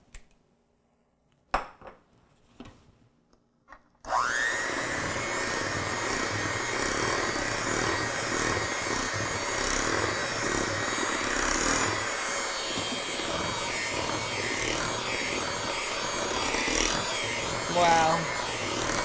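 After a few knocks and clatters, a cheap hand mixer switches on at speed 1 and runs steadily with a continuous whirring buzz, beaters rattling against a bowl.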